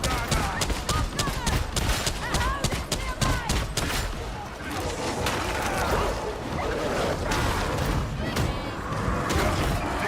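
Rapid stubber gunfire from a video game, dense bursts of shots and thuds rattling continuously throughout, loud and close, with occasional voices mixed under the shooting.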